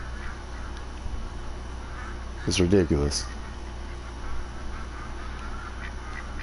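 Ducks quack in the Call of the Wild hunting game. A short burst of several quacks sounds close by while someone talks over a steady low ambient hum.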